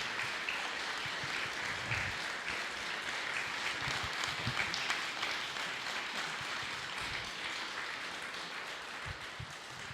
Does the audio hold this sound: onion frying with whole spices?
no